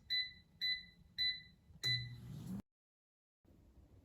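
Air fryer control panel giving three short, bright electronic beeps evenly spaced, then a longer beep as a fan starts with a whooshing hum, followed by a pause and a low hum resuming.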